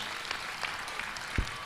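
Congregation applause at a church prayer service in Abuja, a soft, steady wash of clapping from a crowd heard from some distance, with one sharper thump near the end.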